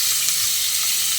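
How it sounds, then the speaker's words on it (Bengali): Potatoes fry in hot oil left over from frying eggplant, a loud, dense, steady sizzle with no breaks and no voices. "আলুগুলোকে দিয়ে ভেজে নিতে হবে।"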